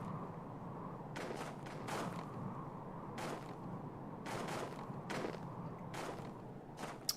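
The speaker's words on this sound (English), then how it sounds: "The explosion ruptures from within the appetite." Blasts in the multiplayer video game EFU Persistent World come as half a dozen sharp, fairly faint bangs spaced irregularly over a low, steady background rumble.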